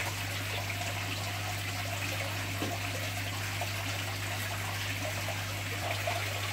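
Water trickles steadily through black sponge filters in a freshwater shrimp aquarium, a soft continuous running and bubbling over a low constant hum, with no voices.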